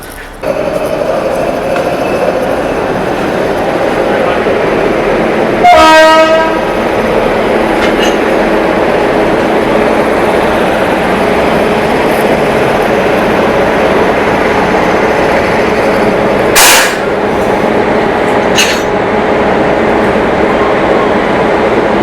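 Dehradun Shatabdi Express train rolling along from Delhi toward Dehradun in AC chair class, a steady loud rumble with a brief burst of clickety-clack rail clatter and a couple of sharp knocks later on.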